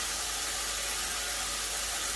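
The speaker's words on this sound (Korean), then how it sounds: "우선 따뜻한 물이 나오도록 틀어줄게요." A steady, even hiss of warm running water pours continuously from a kitchen tap, close and constant with no breaks.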